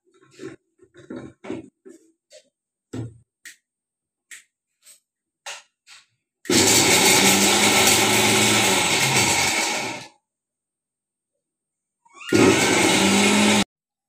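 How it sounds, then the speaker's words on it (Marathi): A kitchen mixer grinder grinding roasted peanuts into a coarse powder runs loud for about four seconds, stops, then runs again in a short second burst, after a series of light clicks and knocks. "आता मी मिक्सरमध्ये थोडासा कूट करून वाटण करून घेते बघा."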